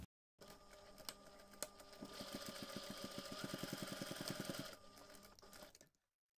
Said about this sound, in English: now you can take this to the machine and top stitch along this folded edge